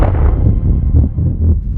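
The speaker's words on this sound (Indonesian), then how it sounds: "Ledakan besar bergema." A big explosion in a sci-fi film about an alien invasion rolls out as a loud, deep, sustained boom and rumble that fills the whole moment, with no voices over it.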